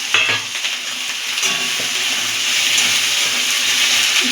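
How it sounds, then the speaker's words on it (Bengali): Sliced onion, capsicum and slit green chillies frying in a pan for chilli fish make a continuous close-up sizzle with occasional stirring scrapes, steady throughout and free of talk. "এটাকেও হালকা ভাজা ভাজা করে দেবো।"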